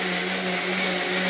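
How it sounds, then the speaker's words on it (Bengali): A mixer grinder whirs loud and steady, grinding spices for biryani in one continuous motor drone with no pauses. "এখানে মিক্সারে নিয়ে নিয়েছি মশলা কিছু"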